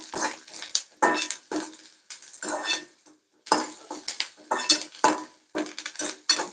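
Onions being stirred in a pan while making rava upma, with a utensil scraping and clinking against the metal in irregular bursts, close and moderately loud, with brief pauses between strokes and no speech.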